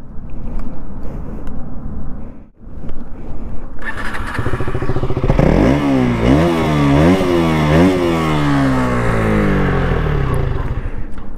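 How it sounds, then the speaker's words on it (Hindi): A KTM Duke 200 motorcycle engine idles, then starts and revs repeatedly in loud rising and falling bursts before settling into a steady throbbing idle, close by. "तो ये दोनों का एग्जॉस्ट नोट था"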